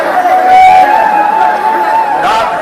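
Dense babble from a large crowd of devotees gathered at a religious katha, many voices blending into a continuous, fairly loud hubbub with no single voice standing out.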